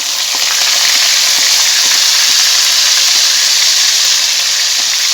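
Onion frying in hot oil for fish curry, giving a loud, steady, close sizzle and hiss with faint stirring underneath and no talk.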